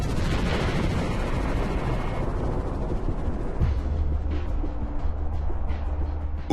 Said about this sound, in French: jusqu'à ce qu'une ligne de fissure provoque l'effondrement du couvercle et que la chambre magmatique explose